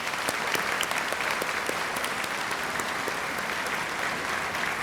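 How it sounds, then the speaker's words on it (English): A high school graduation audience at Riverside gives a steady, even round of applause that stays dense and constant throughout. "Please help me in congratulating her with a round of applause."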